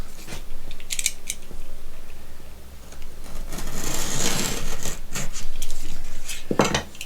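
A sheet of sandpaper is cut to size for a sander, giving close, intermittent scraping and snipping sounds with sharp clicks and rustles along the way.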